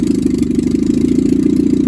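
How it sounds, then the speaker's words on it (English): A Nissan Micra K11 with a swapped GA14 engine idles roughly, close and loud, its uneven pulsing exhaust beat wavering in a fast, lumpy rhythm with no voices. "It's not idling very well"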